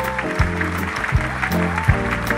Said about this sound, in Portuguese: eu gostaria que fosse recebido com uma salva de palmas